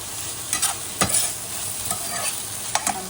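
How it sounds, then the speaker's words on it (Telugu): A Bangalore brinjal (chow chow) chutney is stirred in a hot pan, with a steady hiss and sizzle and a few rough scraping strokes of the spoon, close and moderately loud, with no talk. "ఇప్పుడు కొంచెం కలుపుకొని"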